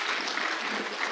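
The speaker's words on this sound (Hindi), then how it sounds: "ज़ोरदार तालियों से उनका इस्तकबाल किया जाए।" An audience at a poetry gathering applauds to welcome a poet, giving a brief, dense burst of steady clapping with no pauses.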